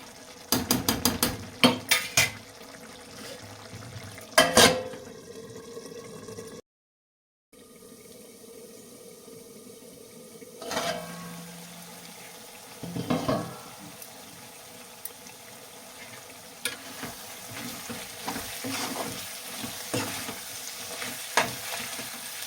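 Boti (goat tripe) curry simmering and sizzling in oil, a steady low bubbling hiss broken by occasional clanks and scrapes of stirring, close and fairly quiet, with a brief dropout partway through.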